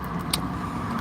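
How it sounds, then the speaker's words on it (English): Cars drive past on a nearby road, making a steady, continuous engine and tyre rumble throughout with no clear gaps between vehicles. "knobheads keep going past, making loads of noises in the cars"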